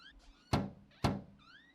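Two firm thunks from a hinged door being pushed in an Unreal Engine 5 physics interaction, each a quick knock-like impact with a short decaying tail, spaced about half a second apart, with faint creaky squeaks before and after.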